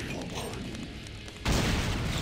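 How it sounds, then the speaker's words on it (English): Grenade blasts in Brutal Doom erupt as a loud, broadband boom about halfway through, following a stretch of rumbling game noise and gunfire. "These grenades are so beast mode in this game"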